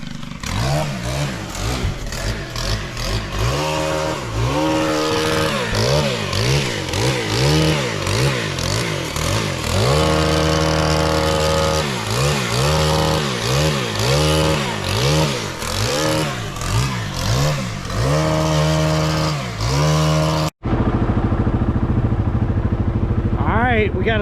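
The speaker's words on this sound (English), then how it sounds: "We got a stuck ATV." A stuck ATV's engine revs repeatedly in rising and falling surges, loud and close, with a steadier idle between bursts and a brief cut near the end.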